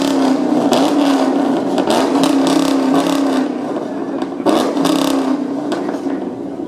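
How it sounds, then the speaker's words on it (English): Pontiac G8 at a car show exhaust contest, its engine revved repeatedly in loud surging bursts with a droning exhaust note between them, close by, with crowd noise around. "look at this pretty G8 that he's going to rev the motor up"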